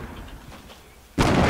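A grenade blast in the Fortnite video game hits suddenly and loudly near the end as one sharp burst, following a stretch of faint rumbling background.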